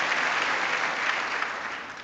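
Dense, sustained applause fills a large chamber during the State of the Union address, a steady roar of many hands at even loudness throughout, with no voices standing out.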